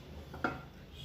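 A metal kadai set down on a gas stove with one short clank, close and fairly soft, alone against a quiet kitchen background.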